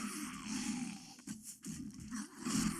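A wolf in the video game 7 Days to Die snarls and growls in a rough, continuous roar that lasts nearly three seconds, with a brief dip in the middle, loud and close.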